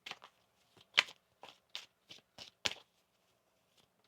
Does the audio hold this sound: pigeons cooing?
no